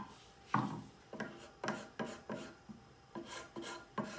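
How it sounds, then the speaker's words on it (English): Hand scraper working leftover glue off a wooden stool, repeated short rasping strokes at an irregular rhythm, close and moderately quiet, with no talking. "Still had a little bit of glue that I had to use my scraper on."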